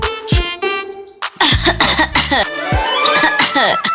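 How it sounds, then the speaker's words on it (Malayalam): A sudden cough in a Malayalam TV comedy serial scene, sharp and close, with voices talking around it. "എന്താണ് ഇതിന്റെ തൊണ്ടയ്ക്കൊരു പെട്ടെന്നൊരു ചുമ"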